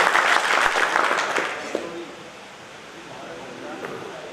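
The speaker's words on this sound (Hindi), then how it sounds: "तालियां एक बार जोरदार।" Applause from the crowd at a political party meeting, a burst of clapping at the start that fades within about two seconds into murmuring and room noise.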